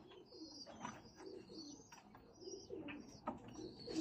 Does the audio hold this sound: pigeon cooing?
yes